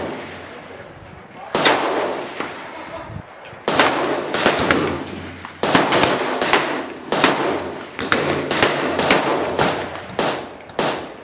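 A .308 rifle fires outdoors, and the sharp shot cracks and echoes with several loud, evenly spaced impulsive bangs standing out over quiet background.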